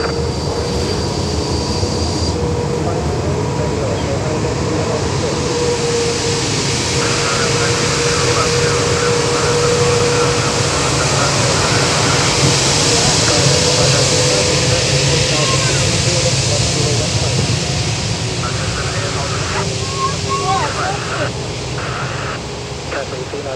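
Continuous loud roar of jet aircraft taking off and landing at Taipei Songshan airport in urban smog, a broad steady engine wash filling the whole stretch with faint tonal whine on top and no talk.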